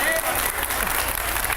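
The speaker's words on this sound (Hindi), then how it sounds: "इस बात पे तालियां होंगी क्या?" A studio audience at a live TV religious talk show claps steadily and loudly, a dense continuous burst of applause that fills the short moment without pause.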